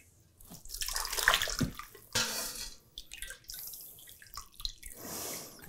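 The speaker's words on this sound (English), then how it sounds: "This is very hot, so we want to go ladle by ladle at first until we get it down where we can pour it." Hot chicken stock ladled through a fine mesh strainer, with splashing, dripping pours in bursts and a short gap, close and fairly loud with no talking.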